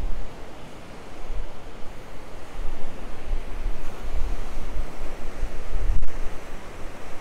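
Ocean waves at El Médano, Tenerife, wash in with a broad rushing roar, swelling and receding, with some wind buffeting the microphone.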